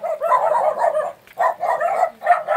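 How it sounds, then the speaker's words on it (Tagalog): Dogs at a home bark in short bursts, three clear volleys of close, loud barking separated by brief pauses. "Dito na yung mga aso."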